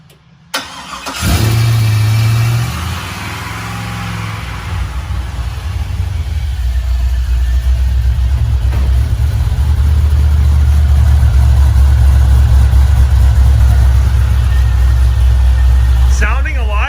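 An LS-swapped Chevy Bel Air engine cranks and catches, then settles into a deep, loud idle that swells and holds with rising revs, close up, with people talking nearby.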